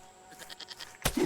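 A short, fast burst of goat bleating in the video game Garden Paws comes near the end after a quiet, pulsing background, loud and close.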